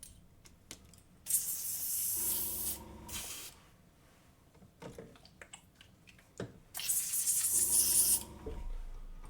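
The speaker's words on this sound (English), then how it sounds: "Alexa, airbrush off." Airbrush spraying red paint, two sustained bursts of bright hissing air, each a couple of seconds long with a low compressor hum beneath, separated by quieter handling noises and clicks.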